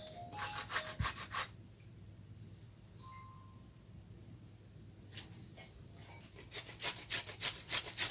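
An apple is rubbed against a grater for apple cake in short, scraping rhythmic bursts at the start and end, close and quiet, with a brief clink and a lull in between.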